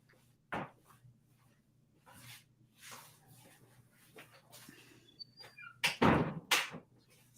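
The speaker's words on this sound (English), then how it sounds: "Let me just close my door" A door swings and shuts with a couple of sharp knocks and a firm closing thud, amid quiet room noise and faint creaks, while a dog barks elsewhere.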